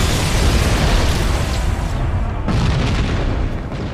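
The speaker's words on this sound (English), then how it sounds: "Just gonna spray grenades and hope for the best." Grenades detonating in rapid succession in Halo: Combat Evolved, loud overlapping booms that merge into a continuous roaring blast with a brief dip midway.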